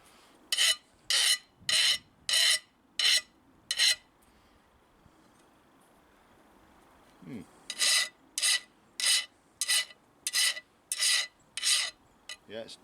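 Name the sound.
rasp filing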